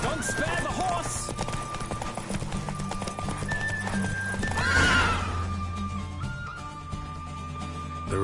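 Roach, a horse in The Witcher video game, gallops hard through a race with steady clip-clopping hooves and sharp neighs, while voices talk over the pounding gait.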